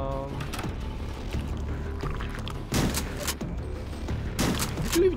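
Shotgun blasts in the retro shooter HROT, a few separate booming shots spaced a couple of seconds apart over a low background drone.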